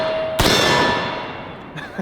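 A single sharp, loud gunshot from a .50 Beowulf rifle, a sudden broadband blast followed by a long fading outdoor tail, with faint activity near the end.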